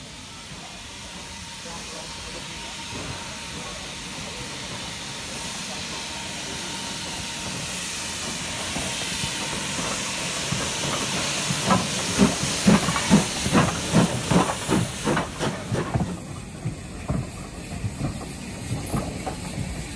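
A BR Standard Class 2MT steam locomotive hisses steam in a steady, building wash, joined later by rhythmic chuffing beats as it moves off at a heritage mainline railway, then a quieter tail.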